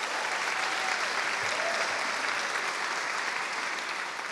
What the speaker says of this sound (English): Keep that applause going for Sandra